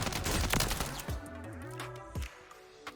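Striker shotgun fired in the Warzone video game with recoil left uncontrolled: a rapid burst of loud booming blasts at the start, then a few sparser heavy shots with mechanical clacks as the rounds ring out.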